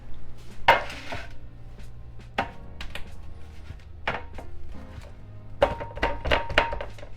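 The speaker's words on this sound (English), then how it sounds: "So let me get the baking sheet and we can put this straight in there" Metal baking sheet handled on a kitchen counter as a biscotti dough log is set onto it, giving several scattered thunks and clanks with soft knocks between them, close and fairly quiet, no voices.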